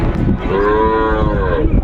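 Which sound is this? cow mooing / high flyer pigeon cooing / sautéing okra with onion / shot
cow mooing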